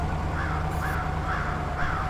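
Repeated crow caws in the driving game Spintires, four harsh calls in a steady rhythm over a constant low engine drone in a muddy outdoor area.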